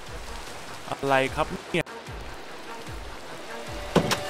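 Steady rain falls in the Minecraft video game as a continuous soft hiss under a man's brief speech, with a few louder game sounds near the end.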